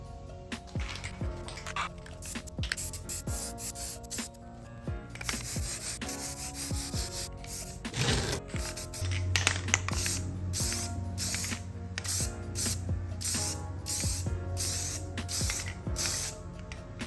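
Spray paint can coating thrifted pumpkins in long continuous hissing bursts, with shorter spurts and rattly handling noises in between, fairly close and steady throughout.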